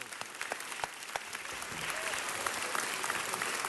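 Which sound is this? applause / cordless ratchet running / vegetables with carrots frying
applause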